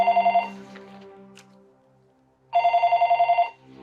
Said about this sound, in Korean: 부상당했지만 살아있는 한민철이 스미모토에게 전화를 걸어온 것